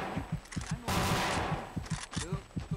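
Rapid bursts of gunfire in the game Vietcong 2 crackle in quick succession during a street fight, with a sustained loud volley in the middle and voices calling out over the shooting.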